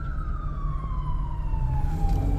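Ambulance siren wailing behind a car in Saturday night traffic in Washington, D.C., a steady descending tone that is fairly loud and a short distance back, over the low rumble of the car's engine and road noise, with no talking.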